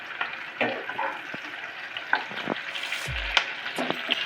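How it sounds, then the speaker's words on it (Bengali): Chopped onions sizzling in a hot pan for dry chilli chicken, with a steady close frying hiss broken by a few brief clinks and stirring scrapes and one low thump. "এবার আমি পেঁয়াজগুলো দিয়ে দেব। পেঁয়াজগুলো আমি খুব বেশি ভাজবো না, সামান্য একটু নরম করতে দেবো।"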